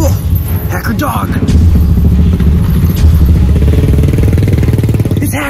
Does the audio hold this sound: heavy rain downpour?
no